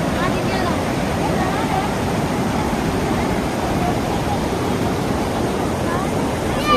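Steady rushing water flows loudly and continuously, a full broad roar with no breaks.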